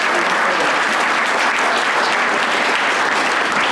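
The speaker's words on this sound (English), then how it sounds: "let's give them a round of applause." Sustained audience applause fills the room at a county agriculture awards ceremony honoring farm families, a dense, steady wash of clapping hands from a large crowd that holds loud and even throughout.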